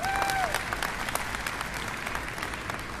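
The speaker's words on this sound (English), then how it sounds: "Please give another round of applause for our mayor" Crowd applause for Mayor Muriel Bowser at the topping-out celebration of the new entertainment and sports arena at St. Elizabeths, steady outdoor clapping with a few sharper individual claps standing out.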